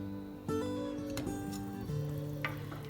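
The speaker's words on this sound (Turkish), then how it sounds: "Biraz karıştıracağız patateslerimizi." Potatoes being stirred in a pot of water for Gaziantep yogurt potato stew, soft scraping and clinking of a spoon with a low sizzling hiss under the scraping and a hum in the background.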